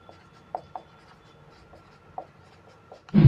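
Pen scratching on paper while working through a Class 10 maths exercise on linear equations; a few faint scattered strokes and taps over quiet background, ending in a louder close bump, with no talk.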